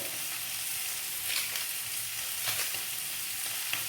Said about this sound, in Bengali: আলুটা অল্প 1 মিনিট মতো ভেজে নিয়ে